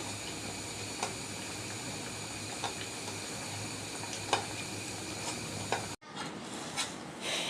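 Semolina sweets (sujir bhaja mishti) fry in a pan over a stove flame that has been turned up after flipping. A faint, steady sizzle carries occasional small pops and clicks, and the sound breaks off briefly near the end.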